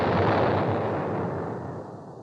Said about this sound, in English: From around the point, a merchantman sailed, its guns booming and smoking.